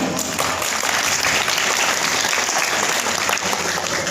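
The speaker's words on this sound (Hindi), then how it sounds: "तालियों के साथ स्वागत कर आपका" Guests at a Marwari community gathering are welcomed with loud, dense clapping from a close crowd, steady and unbroken for a few seconds.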